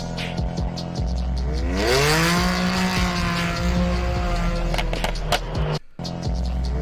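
BMW M4 engine noise mixed under music: a rising, revving engine tone with harmonics sweeping up, then holding steady, moderately loud beneath the backing track, with a brief dropout near the end.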